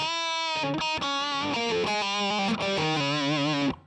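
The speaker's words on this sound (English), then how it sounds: "I think that's quite a nice balanced distortion sound" Electric guitar played through a Tantrum distortion pedal with a Klon boost rings out as a run of sustained, heavily distorted chords and notes, loud and alone, ending abruptly.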